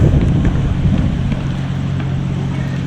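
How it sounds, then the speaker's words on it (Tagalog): Strong wind at sea off Romblon, where large waves are running, roars steadily and loudly into the microphone with a low rumbling buffet and no talk. "medyo malakas ang hangin."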